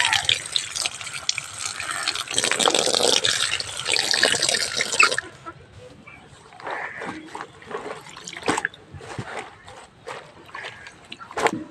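Bottle gourd leaves are washed by hand in water, with a steady run of splashing and trickling for several seconds, then quieter drips and scattered sloshes close by.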